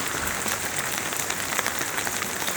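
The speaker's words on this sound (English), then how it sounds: "It's pouring." Heavy rain pours onto an empty town street in McLeod Ganj, a steady dense hiss that fills the whole stretch with no voices.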